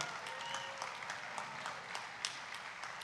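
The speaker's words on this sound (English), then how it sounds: "See, these are all people that are clapping that love their children." Crowd of farmers applauding at a presidential address, steady moderate clapping with occasional louder claps, continuous and fairly distant throughout.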